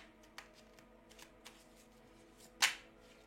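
Tarot cards being shuffled in a quiet room, with a few soft riffling taps followed by one sharp, loud card flutter near the end.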